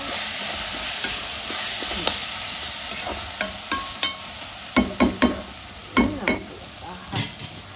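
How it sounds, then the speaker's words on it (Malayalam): Crushed ginger and garlic fry in a pan for a peppery prawn curry, a steady sizzle punctuated by repeated close scrapes and taps of a spoon stirring. "ഇഞ്ചിയും വെളുത്തുള്ളിയും ചതച്ച് വിട്ട് കൊടുക്കാം"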